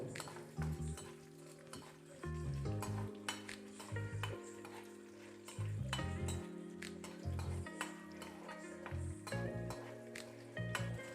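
Urad dal roasts in a hot pan for an idli and dosa chutney, a soft steady sizzle running beneath repeated scraping and clinking strokes of a metal spoon against the pan as it is stirred.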